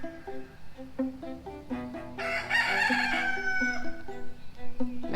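A rooster crows once, loud and close, cutting over a steady, repeating plucked melody that continues underneath.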